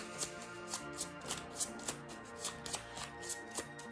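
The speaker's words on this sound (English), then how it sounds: "So I'm going to give the old deck a nice shuffle." A deck of cards for the board game Legacy of Yu gets shuffled by hand, giving a steady run of soft, evenly spaced card slaps over quiet background music.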